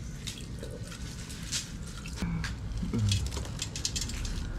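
Water and vinegar being poured over milkfish during cooking prep, a soft liquid trickle with light drips and small clatters, close and steady against a busy background hum.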